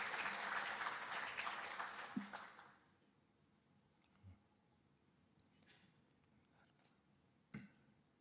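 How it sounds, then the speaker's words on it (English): Audience applause for a choir at a formal event in Jakarta, a dense wash of clapping that swells for about two and a half seconds and then stops sharply, leaving near silence with a few faint thumps. "Please give a big round of applause to LSPR Choir."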